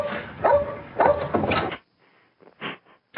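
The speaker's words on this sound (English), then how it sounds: "the dog barking, the drug dog" A drug dog barks three times in quick succession nearby, followed by softer, faint short sounds and a brief muffled thump.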